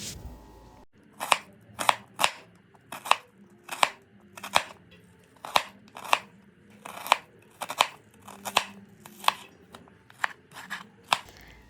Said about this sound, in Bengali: এবার এখানে নিয়েছি একটি মিডিয়াম সাইজের পেঁয়াজ। পেঁয়াজটাকে ছোট ছোট করে কাটবো।